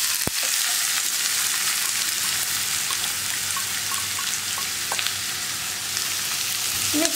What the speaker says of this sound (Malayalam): ഇനി സവോളയൊന്ന് കളർ മാറി വരട്ടെ, അതുവരെ ഇളക്കിക്കൊണ്ടിരിക്കുക.